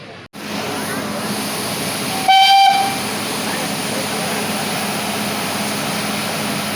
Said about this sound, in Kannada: ಸೊ ಇದೇ ಮೀಟರ್ ಗೇಜ್ ಟ್ರೈನು.